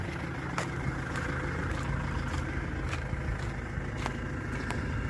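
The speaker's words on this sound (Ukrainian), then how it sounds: "Отакий ось звук вихлопа." Exhaust of a 2005 Ford Transit 2.0 diesel van idling, a steady low quiet rumble heard close up with faint sharp ticks or clicks recurring over it, no talk.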